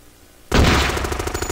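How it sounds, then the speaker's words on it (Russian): A rapid-fire automatic rifle in the video game Madness Interactive bursts in after a brief quiet moment, then keeps going as a loud, continuous stream of fast shots. "А, это уже какой-то скорострельный автомат."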